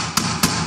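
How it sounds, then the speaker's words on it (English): Three sharp hammer strikes drive small pins, evenly spaced and close, ringing briefly over a steady room background with no talk. "you need to be very careful with your hammering and nailing because you may hit your fingers"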